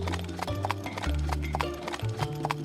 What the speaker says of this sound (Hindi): तेजी से घोड़े पर उनके पास पहुंचा